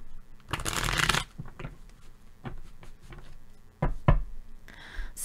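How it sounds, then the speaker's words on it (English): Tarot cards are riffled in a loud brisk burst, followed by soft taps and shuffling knocks, then another quick riffle near the end. "So let me go ahead and shuffle."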